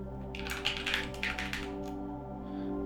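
A computer keyboard is tapped for a short burst of quick keystrokes, close and fairly soft, then it falls quiet over a low steady hum.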